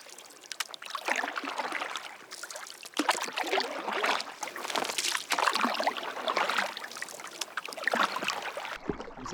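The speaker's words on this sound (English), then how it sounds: "Successfully paddling in the water." A canoe or kayak paddled on a lake near a lava flow, with steady rhythmic paddle splashes and dripping water close by, somewhat loud, with wind in the background.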